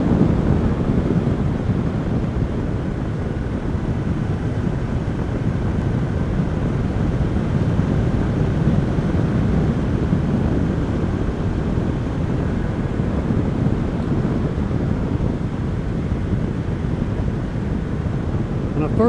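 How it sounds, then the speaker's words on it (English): A Honda CB500X motorcycle cruises in fourth gear at 58 mph, 5,000 rpm, a continuous engine drone buried under heavy wind rush, steady throughout. "So we're in fourth gear right now, running 58 miles an hour."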